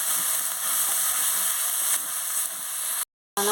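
Tomato with turmeric, chilli powder and cumin paste sizzling steadily in a pan, a continuous close hiss of frying spices that runs unbroken before cutting out abruptly near the end.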